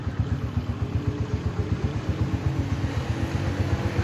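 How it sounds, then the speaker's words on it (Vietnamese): Honda Master 125cc motorcycle with an original, unopened engine idling smoothly, a steady low rhythmic putter with regular even pulses, close and alone. "Máy nổ rất là êm, rất là chắc chắn."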